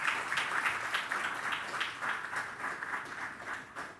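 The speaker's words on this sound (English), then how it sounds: "but I think we should give Minion a round of applause." Audience applause at a college graduation ceremony, a steady wash of many hands clapping from a crowd at moderate level throughout, with no speech.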